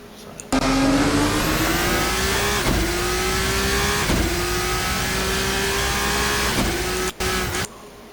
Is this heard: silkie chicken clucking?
no